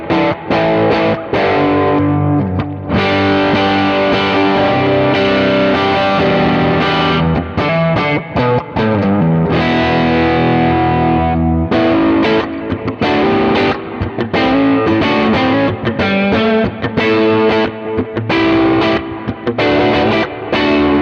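An electric guitar plays through an amp with a bright profile into a 15-inch JBL speaker cab from a '64 Vibroverb, a continuous distorted riff with sustained chords and brief pauses, loud and close.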